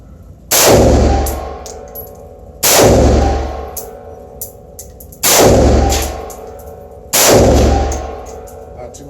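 A 7.5 inch AR pistol fitted with an SMC compensator fires four loud, sharp shots spaced about two seconds apart, each with a ringing decay, with no talking.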